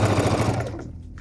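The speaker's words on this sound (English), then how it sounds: "make sure you're doing a back tack, so reverse a few stitches" Sewing machine running a pants hem and reversing a few stitches to back tack, a loud close steady motor buzz that slows and fades out near the end.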